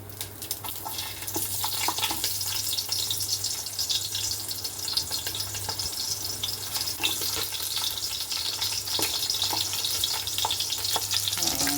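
Large washed onion pieces fry in oil with a continuous bright sizzle, scattered crackles and small clicks riding over a low steady hum from the kitchen.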